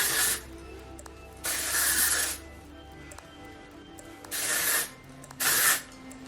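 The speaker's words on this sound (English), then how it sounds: "So this is the Volume and Matte Texture Spray by Amika." Amika Volume and Matte Texture Spray misted onto hair in four separate aerosol bursts, close and hissing, with quiet pauses between.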